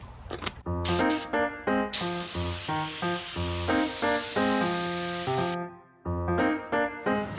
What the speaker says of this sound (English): we're getting ready to spray the boss